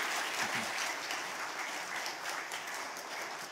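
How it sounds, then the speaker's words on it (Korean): A church congregation applauds, dense continuous clapping filling the room at moderate distance, steady for several seconds with no one speaking over it. "우리 기쁨으로 한번 박수하며 맞이해 주시기를"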